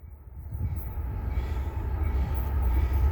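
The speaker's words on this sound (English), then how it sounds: "Here comes an NS Consist coming through on a Nicolak." A Norfolk Southern locomotive consist rumbles through Fullerton, a loud, steady low roar of engines and rolling wheels building as it passes close by, with no talking.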